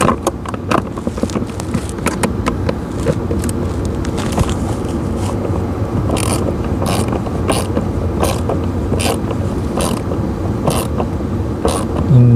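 Bolts are tightened into plastic mounts on the blower motor of a 2011 Chevrolet Silverado 2500 HD, giving steady, close mechanical ratcheting and creaking clicks that continue for over ten seconds without talk.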